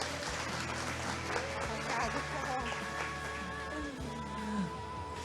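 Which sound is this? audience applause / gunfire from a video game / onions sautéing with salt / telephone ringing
audience applause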